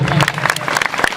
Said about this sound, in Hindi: सभी से कहना चाहता हूं कि एक जोरदार ताली संत समाज के लिए बजाने का काम करें